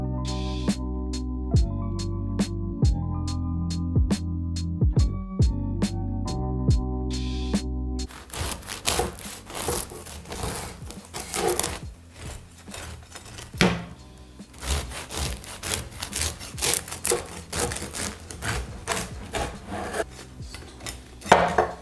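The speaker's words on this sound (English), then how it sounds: "And then we can cut it. And as you will hear, the crust is amazing." After a stretch of plucked music, a knife saws through the crust of a freshly baked Irish soda bread with a steady, close, crunchy rasping that goes on with repeated strokes to the end.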